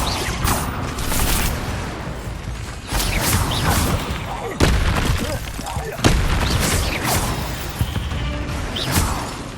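Confringo fire spell blasts in Hogwarts Legacy during a duel, a run of loud booming bursts and crackling impacts repeating every second or two over combat noise.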